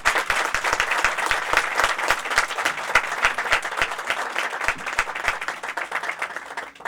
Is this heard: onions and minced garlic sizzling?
no